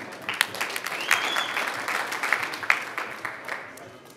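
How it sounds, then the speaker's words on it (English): Audience applause at a BAMMA 22 MMA weigh-in in Dublin, a steady crowd clapping close and loud, rising then fading with a few sharp claps and cheers. "round of applause, Arnold Dos Santos versus Keith Cody."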